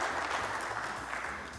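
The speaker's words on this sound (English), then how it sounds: "How about a big round of applause for Rhonda Curtis?" Sustained applause from a live morning show audience, a dense wash of many hands clapping at an even level throughout, with no voices standing out.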